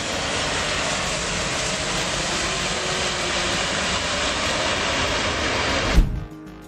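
A jet airliner roars loudly during landing as its thrust reversers build a broad, steady rush of engine noise that holds for several seconds, then cuts off abruptly near the end.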